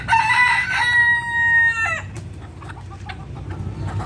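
A rooster lets out a single loud, nearby crow lasting about two seconds, followed by quieter outdoor background noise with faint scattered clucks.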